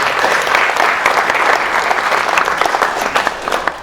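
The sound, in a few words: audience applause at a summit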